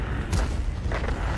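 A single deep, booming tank cannon shot in World of Tanks, close and heavy, with a second duller thud following about half a second later, no voices.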